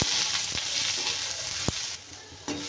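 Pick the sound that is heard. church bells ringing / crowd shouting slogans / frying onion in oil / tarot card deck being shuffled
frying onion in oil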